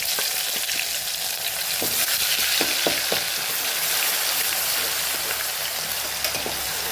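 Cloves, cumin, curry leaves and ginger-garlic paste sizzle in hot oil for a Kathiyawadi vegetable dish, a loud continuous crackling fry close up with scattered sharp pops and light utensil taps.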